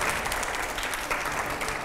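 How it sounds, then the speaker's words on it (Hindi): A studio audience claps loudly and continuously at the close of a televised political interview show, a dense, even wash of applause filling the whole moment with no talk. "जोरदार तालियां"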